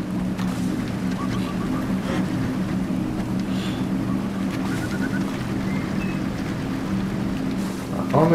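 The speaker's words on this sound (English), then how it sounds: "I also have engines running here." Vehicle engines running in the game Trailmakers give a steady mechanical drone with a low hum and faint tonal whines, continuous and moderately loud throughout.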